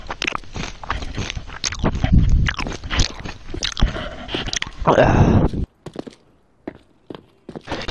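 Someone bites and chews crunchy chips close to the microphone, a dense run of loud crunches and scrapes that stops abruptly, followed by a few sparse softer crunches.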